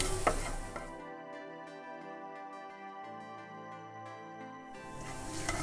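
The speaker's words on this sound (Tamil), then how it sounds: "அதே போல் கொஞ்சமாக பெருங்காயத்தூள் இதையும் சேர்த்து நல்லா கலந்துடலாம்" Sautéed onions stirred in a pan with turmeric and asafoetida, brief sizzling and scraping at the start and end, with a stretch of music filling the middle.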